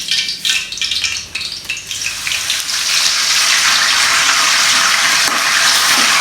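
Bay leaves, cinnamon and cardamom fry in plenty of hot oil, opening with sharp uneven crackles that settle into a loud, dense, continuous sizzle close by.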